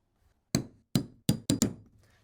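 Five sharp metallic taps of a center punch struck into the hard melamine side of a cabinet while fitting screw-on hinges on a 19mm front, spaced irregularly and close, with quiet gaps between.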